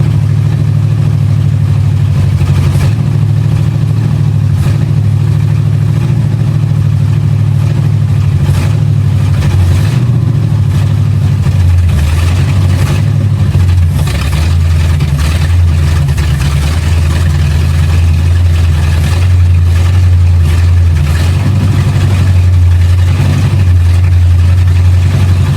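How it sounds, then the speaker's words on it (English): A small block Chevy V8 runs steadily and loud up close, a deep continuous idle with occasional light revs, no one talking. "That motor sounds actually pretty good."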